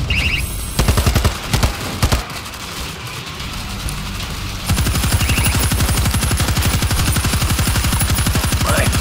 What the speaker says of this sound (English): Auto turret ready for action.